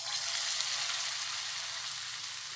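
Small pieces of wheat flour snack dough fry in hot oil with a steady, dense sizzle and bubbling that stays close and even throughout, with no talking.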